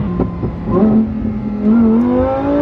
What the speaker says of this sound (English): Listen to the sound this car makes.